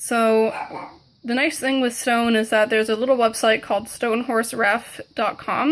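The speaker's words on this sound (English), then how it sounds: "I apologize for my dog barking in the background." A dog barks in the background while a person talks steadily over it, the barking mixed under the nearer voice.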